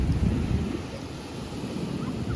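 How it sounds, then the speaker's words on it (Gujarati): Large storm-driven sea waves surge loudly and continuously against the shore, heavy low rumbling wash with wind buffeting the microphone throughout. "લગભગ સાત થી આઠ ફૂટ મોજો ઊંચો છે"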